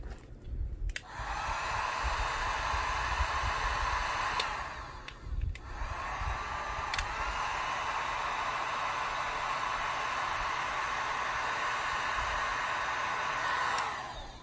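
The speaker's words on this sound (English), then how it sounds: "then you're gonna heat the shrink wrap up so it heats over it" A heat gun blows steadily to shrink heat-shrink tubing over car headlight wiring on an Acura RSX with HID lights, a loud continuous hiss with two brief dips near the start.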